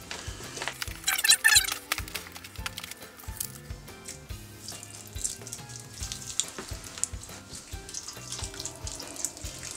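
Water pours and splashes into seed starting soil mix to pre-wet it, strongest in an early burst, then continuing in softer trickles over steady background music.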